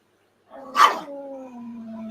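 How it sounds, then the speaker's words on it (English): Several dogs bark once sharply up close, then trail into a sustained whining howl that continues to the end. "Sorry about my dogs. I just fed them a few minutes ago."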